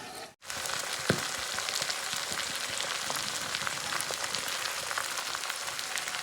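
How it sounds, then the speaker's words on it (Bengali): A whole chicken fries in oil in a covered pan over medium flame, giving a continuous, even, close sizzle and crackle after a brief quiet moment at the start. "এভাবে সব দিক থেকেই খুব ভালো করে ভেজে নিতে হবে"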